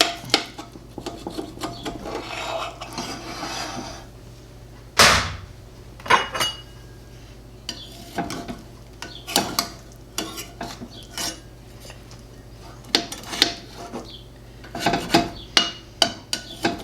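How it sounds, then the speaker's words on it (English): A knife slicing into a bacon cheeseburger sourdough skillet, giving soft scraping and rasping strokes, a sharp clink against the pan, and scattered utensil taps close by in a quiet kitchen. "I am gonna cut into this baby and dish a slice up so that you can see what it looks like."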